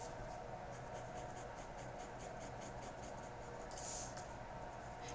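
A pencil shades over paper in a drawing, producing quiet, rhythmic rapid scratching strokes repeated steadily throughout, faint and close with no talking.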